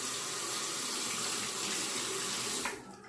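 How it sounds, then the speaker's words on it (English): A Gillette Tech safety razor is rinsed under a running tap, a steady broadband rush of water pouring close up that cuts off abruptly near the end. "I'll rinse the razor"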